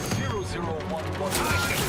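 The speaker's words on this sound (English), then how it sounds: "Who's shooting us?" Gunfire in The Outer Worlds 2, a short burst of rapid shots at moderate level, with game effects and a voice in the background.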